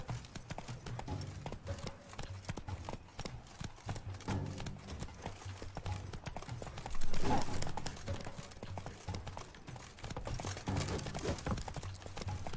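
Horse hooves clip-clop at a steady galloping rhythm in The Witcher 3: Blood and Wine, riding under a dense game soundtrack with a louder burst midway.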